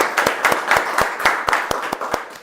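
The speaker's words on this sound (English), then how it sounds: "So I think a huge round of applause is desired to all of them." Applause and clapping from an audience at a mock placement premier league event, a brisk run of sharp, fairly regular hand claps filling the space at moderate loudness with no talk over it.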